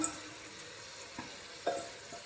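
Basmati rice is stirred into Dindigul Thalappakatti biryani masala in a pot, with soft scraping stirs and a light sizzle, a few distinct spoon knocks spread over the moment.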